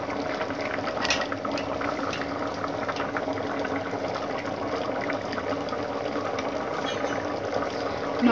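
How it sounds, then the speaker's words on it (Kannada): Curry with masala boils in a pot, giving a steady, dense bubbling that runs unbroken and fairly close throughout, with no voices. "ಇವಾಗ ಇದು ಚೆನ್ನಾಗಿ ಕುದಿ ಬರಬೇಕು"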